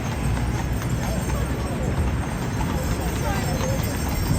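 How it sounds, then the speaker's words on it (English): Steady hoofbeats of an NYPD police horse clip-clop along a Manhattan street near Freedom Plaza at night amid constant traffic and crowd noise, with voices talking faintly in the background. "found the NYPD horse"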